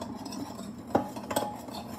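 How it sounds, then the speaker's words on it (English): Lamb chop marinade with black pepper stirred in a bowl with a utensil, two quiet clinks of metal against the dish in a short, otherwise hushed moment. "And then I'm stirring."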